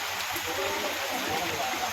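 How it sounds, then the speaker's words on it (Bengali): Steady rain hisses evenly over a busy market, New Market in a crowded wet setting, with faint crowd murmur mixed into the constant wash. "আবার বৃষ্টিতে দাঁড়িয়ে পড়েছি"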